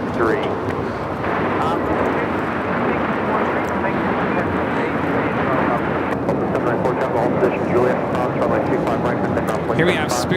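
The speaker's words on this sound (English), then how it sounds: "Here we have Spirit Airlines 2074 taking off to Baltimore on the A320 Neo." A Spirit Airlines Airbus A320neo takes off at LAX bound for Baltimore, its engines producing a continuous broad roar throughout, with a person talking over the noise.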